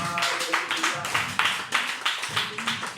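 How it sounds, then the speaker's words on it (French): Church congregation clapping for a five-year-old girl's birthday, a steady rhythmic clapping with scattered claps and voices mixed in throughout. "On acclame le Seigneur pour sa vie"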